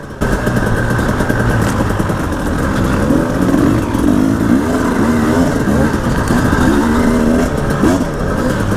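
A 2018 KTM 300 dirt bike races an enduro hare scramble, its two-stroke engine buzzing loud and close with a fluctuating, wavering pitch as the throttle is held low on loose ground.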